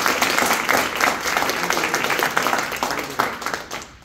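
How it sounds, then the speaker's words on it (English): An audience at a university Q&A performance breaks into a dense round of applause, claps steady and overlapping for about four seconds before thinning out toward the end. "So let's give everybody a big round of applause."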